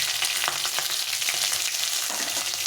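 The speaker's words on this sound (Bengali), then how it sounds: "একটু ভাজা ভাজা করে নিয়ে" Green chillies and bay leaves frying in hot oil in a pan, a steady bright sizzle with faint stirring clicks throughout, close and fairly loud.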